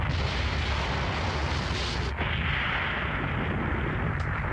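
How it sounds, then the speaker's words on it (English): A huge explosion in an anime battle roars as a loud, continuous rumbling blast that fills the whole stretch with dense, sustained noise and no pause. "This huge explosion."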